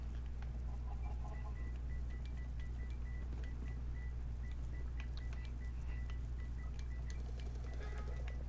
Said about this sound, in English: Why the chicken?